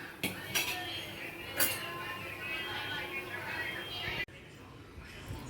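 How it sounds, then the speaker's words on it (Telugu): Utensil clinking and scraping in a pan as cabbage fry with chana dal, salt and asafoetida is stirred, intermittent metallic clinks over a steady sizzle, close by, ending with a sudden drop to quieter background. "ఇప్పుడు ఇందులో కొద్దిగా సాల్ట్ వేసి ఇంగువ వేసి కలుపుకుందామండి"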